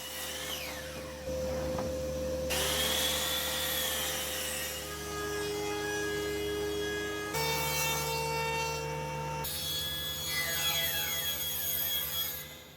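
Wooden board being run through a planer and milling machine while building a bed frame: a loud, continuous machine whine and rough cutting roar that shifts pitch in several stages over about eleven seconds, with no talking.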